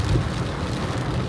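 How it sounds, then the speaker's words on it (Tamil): Heavy rain pouring at night during a road trip to Tirupati, a steady dense roar of rainfall with a low rumbling undertone, continuous and loud throughout, without talk. "பார்த்திங்கன்னா செம்ம மழை பெஞ்சிட்ருக்கு."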